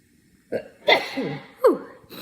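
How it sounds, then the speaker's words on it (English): A single sharp sneeze bursts out close to the mic, with brief vocal sounds and breaths just before and after it in a quiet room. "Excuse me, I'm gonna sneeze."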